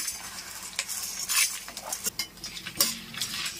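Coriander seeds, dried chillies, urad dal and pepper being stirred while dry-roasting in a pan, a quick series of scraping, rattling spoon strokes over a faint sizzle.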